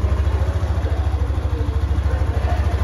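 A Hero Xtreme 125 R motorcycle with a balancer shaft and silent cam chain idles nearby, its engine giving a steady, rapid pulsing thrum throughout, loud and alone.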